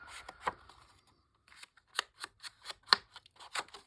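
Scissors snip out a paper journal card in a quiet indoor crafting setting, a string of short, crisp cuts at an uneven rhythm, close and fairly soft, with no talking.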